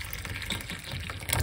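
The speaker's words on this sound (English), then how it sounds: "Pour some hot water upon it." Hot water poured into a cup over a home cleansing drink, a steady close liquid gush running for the whole stretch without any talk.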